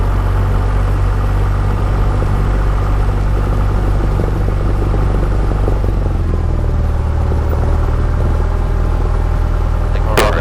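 An aircraft engine runs at low RPM, around 1100, with a loud, steady rumbling drone that continues unbroken for about ten seconds, dropping slightly in pitch partway through.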